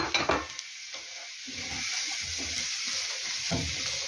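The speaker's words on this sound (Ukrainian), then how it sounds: "Вона зараз буде ще смажитися ось перчиком." Carrots and peppers frying in oil in a pan for braised cabbage, giving a steady sizzle with a few stirring scrapes near the start.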